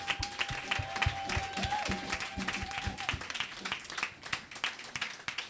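A church congregation applauds together, a sustained close burst of many hands clapping, with a held sung or spoken tone over the first half before the clapping carries on alone.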